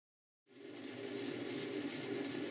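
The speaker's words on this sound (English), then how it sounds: "The lathe is currently running too slowly really, so I'm just taking gentle cuts" A metal lathe starts up after a short silence and runs slowly, taking gentle cuts, with a steady, even mechanical whir and hum continuing at a moderate level with no talk.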